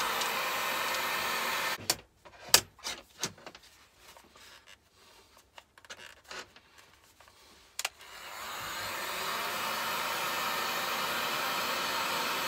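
A hair dryer blows warm air over batteries, first in scattered short bursts and clicks, then running as a steady, even whoosh for the final seconds, with no talk.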